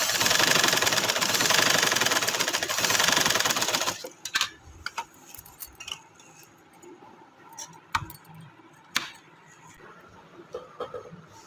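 Sewing machine stitching lace onto a trouser, running in a loud continuous whirring burst for about four seconds, then stopping and leaving scattered close clicks and handling knocks.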